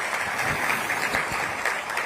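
An audience at the launch of a police song breaks into applause, a dense, continuous wash of clapping that holds evenly throughout without pause.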